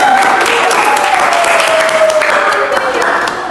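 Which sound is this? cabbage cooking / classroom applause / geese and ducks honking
classroom applause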